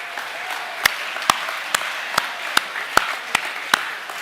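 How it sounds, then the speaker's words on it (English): A school awards assembly crowd applauds steadily throughout, a continuous wash of clapping with several sharp, nearby individual claps standing out at regular intervals. "Let's give Hayes a round of applause."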